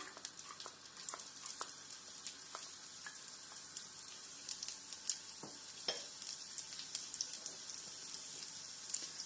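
Shallots crackle in a tablespoon of hot coconut oil for a sardine curry, a quiet steady sizzle dotted with sharp pops and spatters, close but soft, with no talking.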